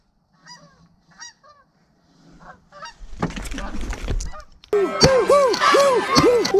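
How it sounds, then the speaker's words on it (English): Canada geese honk while flying around a Maryland goose hunt, a few scattered distant honks at first, then louder overlapping calls and a close, rhythmic run of strong repeated honks toward the end. "I have heard a whole bunch of honkers flying around"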